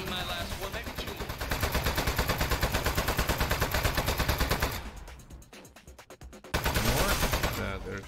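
Turret in the video game Aperture Desk Job firing rapid, evenly spaced rounds, loud and sustained, pausing briefly before another burst, with a voice talking over it.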